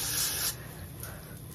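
Got2b hairspray sprayed onto short pixie hair: a single close, hissing aerosol burst of about half a second, followed by quiet room noise.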